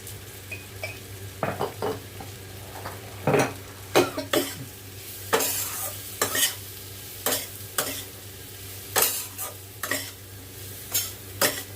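Amla pickle is mixed with table salt and black salt, giving repeated sharp scraping and clinking strokes of a spoon against the vessel in an irregular rhythm over a faint, steady background.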